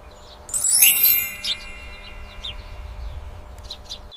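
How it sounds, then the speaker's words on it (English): A sparrow's high chirps burst out loud and close at first, then thin into a few faint scattered tweets over a low rumbling background. "It's a sparrow."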